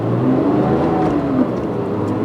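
A Porsche 911 GT3 with a gray tachometer revs its engine close by, a steady throaty drone that climbs in a smooth rising sweep, loud and alone without speech.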